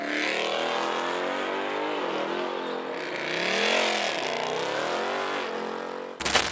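A 750hp Roush Mustang roars hard during a drag race, its loud engine note holding and climbing under heavy acceleration for several seconds before an abrupt burst of noise at the end.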